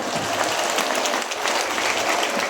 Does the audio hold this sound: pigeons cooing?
no